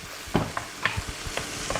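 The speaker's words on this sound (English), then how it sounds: "now it sizzles nicely, and you can feel this smell of the garlic." Garlic sizzles in a frying pan for pasta, a soft oily crackle with a few sharp stirring clicks and scrapes spaced irregularly, close and moderate in level with no speech.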